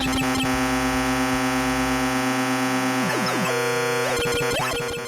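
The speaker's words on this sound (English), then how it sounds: "It's a constant beeping." A steady electronic drone of stacked beeping tones from the Atari 2600 game Star Fox by Mythicon, with pitches sliding down and back up, loud and continuous.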